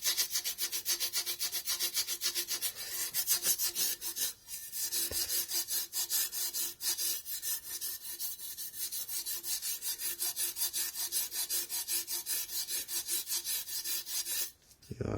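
Emery cloth rubbed steadily by hand over the metal of a Delkevic exhaust on a Honda VFR800 motorcycle, a continuous close scratchy abrasion with brief pauses between strokes, no talk.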